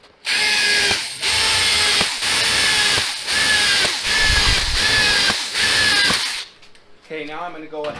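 A cordless drill bores holes into a model belly pan in a series of close, loud whining bursts, each lasting about a second with short gaps between, followed by a quieter tail of softer mechanical noise.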